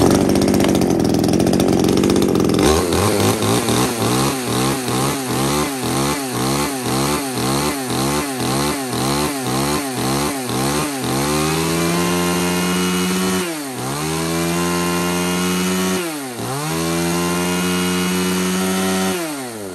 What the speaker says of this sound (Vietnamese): Dòng cưa tay cụt chuyên để leo tỉa cành